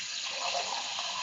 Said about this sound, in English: This is also water running